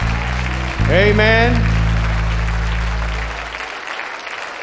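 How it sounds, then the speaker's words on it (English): A church congregation claps its hands in praise during a service. The sustained clapping sits under a swelling organ chord and a single spoken or sung word, then fades away toward the end. "Clap your hands unto the Lord one more time."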